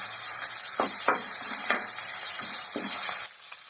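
Ginger garlic paste fries with a biryani leaf in a hot pan, a loud continuous sizzle broken by about half a dozen rhythmic stirring scrapes before it cuts off.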